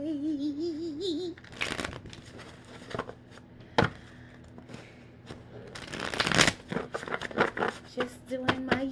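Tarot cards are shuffled by hand in repeated bursts of riffling and sliding, close and fairly loud, with a few sharper slaps, while a faint hum sits underneath.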